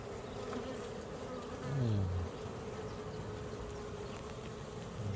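Honeybees buzzing around an open hive during a spring inspection, a dense steady drone close by, with one bee swelling louder as it passes near the middle, no talk.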